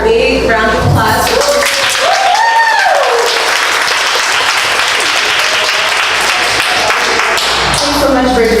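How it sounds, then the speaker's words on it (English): Loud, continuous audience applause for Richard Walker at a community meeting on dismantling racism, dense clapping that fills the whole stretch, with voices and a brief whoop rising over it. "with giving Richard Walker a big round of applause."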